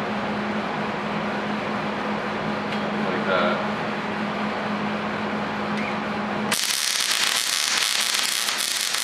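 Tack welding on a steel bar during fabrication work: a steady crackling, buzzing arc runs continuously, then gives way to a harsher, brighter hiss for the last couple of seconds, loud and close.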